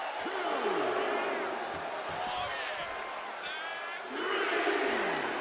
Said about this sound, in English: And Lola Vice looking for support from the crowd.